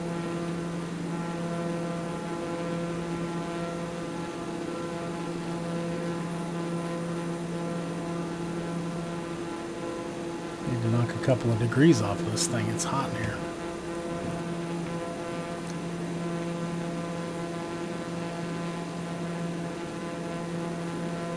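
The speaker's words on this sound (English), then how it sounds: "So as I fly my fake airplane across the fake country" A propeller airplane in Flight Simulator 2020 drones with a steady, even hum throughout, while someone talks over it partway through.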